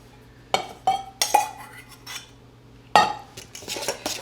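Drained pineapple goes into a mixing bowl for stuffing, with a few close, sharp clinks and clatters of a spoon against the bowl and soft wet plops between them, spread over a few seconds.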